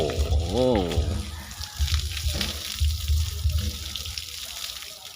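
Elephants Phlai Thong Khun and Phang Khan Ngoen bathing, with water splashing and sloshing in irregular bursts throughout, mixed with low rumbles and a brief voice-like call near the start.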